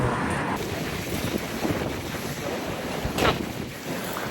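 Strong wind in Japan roars steadily across the microphone, a loud, buffeting rush with gusts swelling and easing, and no voices heard.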